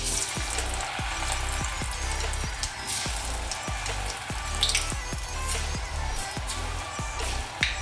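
Snack rolls frying in hot oil on a low flame, producing a loud, dense, steady sizzle with a regular ticking pulse underneath.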